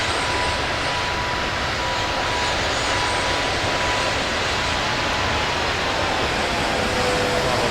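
Steady, loud airplane engine drone while flying over New York's Central Park in the video game Flight Simulator 2024, a constant broadband roar with a faint tonal hum, unbroken and alone with no voices.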